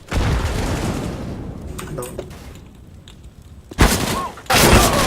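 Grenade and Molotov blasts in Counter-Strike: Global Offensive, a dense loud burst of gunfire-like booms at the start, a quieter stretch, then two sharp explosive bursts near the end.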